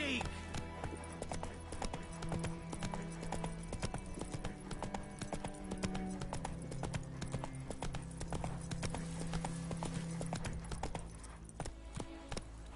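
Roach the horse gallops in The Witcher 3, with fast, continuous clip-clopping hoofbeats held throughout under game sounds and a voice.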